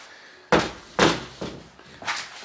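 A large bedroom wardrobe door is shut four times in succession, each a firm wooden thud, the first two loudest and the later ones softer, heard close in a quiet room without speech.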